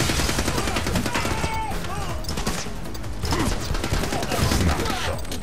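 Dense, continuous bursts of shotgun fire and explosions in the game The Club crash together loudly, with brief voices buried in the chaotic din.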